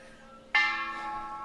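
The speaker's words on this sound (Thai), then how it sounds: "ได้ยินเสียงะระฆังมา" A single temple bell strike at a Thai Buddhist temple rings out sharply and then hangs in a long, shimmering metallic resonance that slowly fades.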